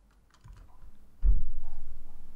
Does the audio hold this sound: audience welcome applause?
no